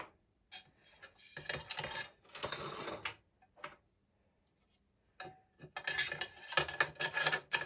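Aluminium pressure-stove parts and an aluminium frying pan clink and rattle as they are handled and fitted together, in several short bursts of light metallic clatter separated by quiet pauses, close by and fairly soft.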